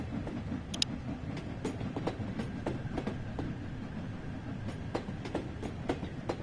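A train runs in the video game Train Sim World 6, a steady rumbling rail drive with clicking wheel beats and a few sharp higher ticks over a continuous low roar.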